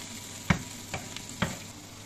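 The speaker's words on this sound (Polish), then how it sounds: "Całość przykryjmy i tak niech się smaży jakieś 5 minut." Food sizzling steadily in a frying pan with pepper added, broken by a few sharp scrapes and taps of a utensil stirring it, close and with no talk.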